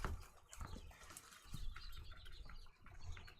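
Two month-old chicks flapping their wings and chirping softly nearby, brief bursts of fluttering mixed with faint peeps at low volume.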